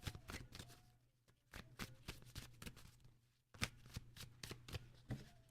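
Oracle cards being shuffled during a reading, a quick run of crisp riffling bursts and soft slaps, close and clear with a low steady hum beneath.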